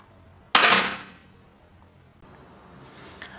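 A metallic toy replica of the PUBG M40 sniper rifle fires once, a single sharp close crack that fades quickly, followed by quiet handling noise.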